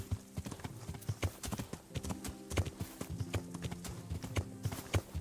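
A horse's hooves trotting in the video game Kingdom Come: Deliverance, a quick steady clip-clop, close and moderately quiet.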